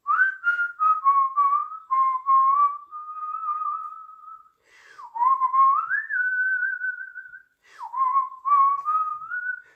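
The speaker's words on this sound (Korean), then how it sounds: "휘파람 바이브레이션." Someone whistles a wavering melody in three phrases, the notes trembling with vibrato and sliding between pitches, clear and close with no other sound.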